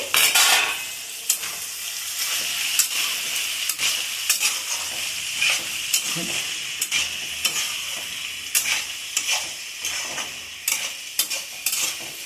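Onions and curry leaves frying in a pan while being stirred for a Guntur-style dondakaya fry, a steady bright sizzle punctuated by repeated scraping and clinking strokes of a spoon against the pan, close and continuous.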